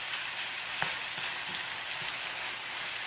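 A vegan scramble sizzles in a pan on the stove, giving a steady soft crackle with a few faint pops and no voices over it.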